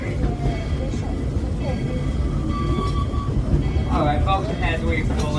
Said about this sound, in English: as we pull into Main Street Station, just stay seated until the train comes to a full and complete stop